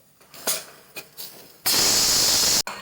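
A pressure cooker boiling sweet potatoes without water gives a few short hissing puffs, then a loud, sustained steam release (its whistle) that cuts off abruptly.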